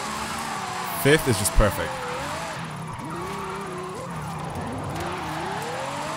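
Ferrari engine in Forza Horizon 5, the revs climbing and dropping through the gears while the wheels struggle for grip, with a short squealing burst of wheelspin early on, all under steady close-up talk.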